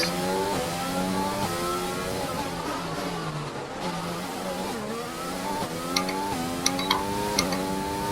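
A race car in a racing video game revs steadily on its outlap, the engine note climbing and dropping through gear changes in a continuous loud drone with no talk.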